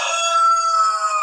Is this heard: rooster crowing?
yes